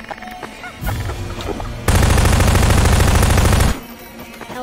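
Rapid bursts of automatic gunfire in a Backrooms horror video game, a short volley followed by a loud sustained stream of shots lasting nearly two seconds before cutting off.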